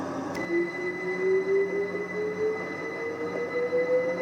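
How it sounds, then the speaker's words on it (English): A Brighton-bound passenger train in the Train Sim World game rolls into Southease station, with a low rumble and a faint rising wheel tone under a constant background hum, no voices. "we've got a Brighton bound service pulling in"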